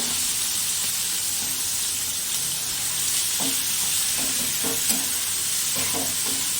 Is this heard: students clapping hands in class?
no